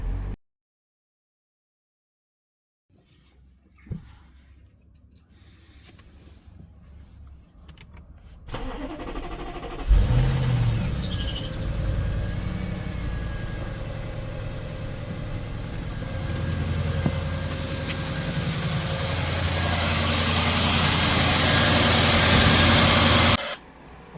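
An Audi S8 D4 with the 4.0 TFSI engine cranks after a PCV and air-oil separator change, catches with a loud roar, then settles into a steady idle that rises slightly and holds.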